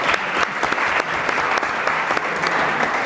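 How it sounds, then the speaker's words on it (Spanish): A live audience gives a short, vigorous round of applause for a man named Henry during a talk about joint cracking, steady and thick throughout with no voices over it. "por favor un aplauso a Henry"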